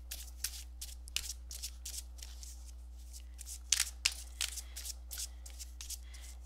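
Oracle cards being shuffled by hand: a quiet series of brisk riffling bursts and soft slaps, irregularly spaced against a low steady hum, with no talking.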